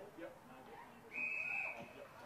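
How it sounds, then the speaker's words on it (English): A referee's whistle sounds once during a women's Australian rules football match between ADF and VWFL teams, a single sustained high blast of about half a second in the middle of crowd and field noise. "Umpire's blown the whistle."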